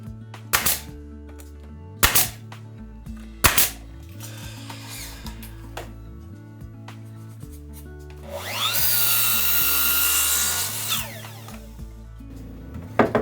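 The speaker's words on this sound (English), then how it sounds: "I cut the width of a switch and installed the top shelf board." Wooden shelf board being cut and fitted in an old retro kitchen under renovation: several sharp knocks and taps on wood, then a few seconds of power-tool cutting, close-up, over a background of music and without talk.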